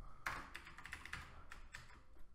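Rapid keystrokes on a computer keyboard while JavaScript code is typed, a close, quick run of clicking taps for about two seconds with no talking.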